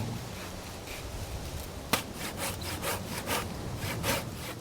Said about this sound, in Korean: 장인이 잘라낸 나무에 다시 톱질을 해서